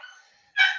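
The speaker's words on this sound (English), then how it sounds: "You hear my dogs?" Dogs at home give a short burst of barking, faint at first and then a single loud, close bark.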